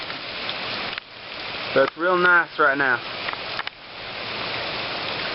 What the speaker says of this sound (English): it's raining kind of hard